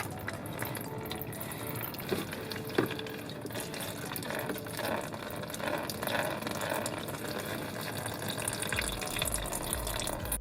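Motor oil trickles from the oil filter of a 2014-2020 Subaru Legacy 3.6R during an oil change, a steady, fairly close liquid stream with faint splashing and no talking.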